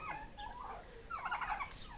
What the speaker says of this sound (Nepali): टर्की बर्ड्सहरू